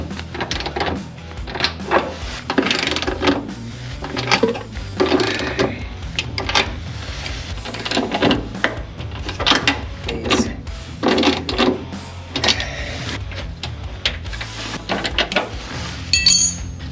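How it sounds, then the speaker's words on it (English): Bolting up parts of a Ford Fox-body Mustang 5-lug rear axle swap: repeated mechanical clinks, ratcheting and metallic tool clatter close up, in busy irregular bursts throughout with no talking. "I'm just going to bolt these up like this."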